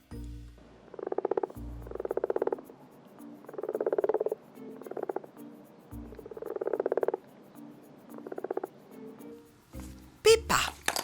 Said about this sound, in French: A frog, une grenouille.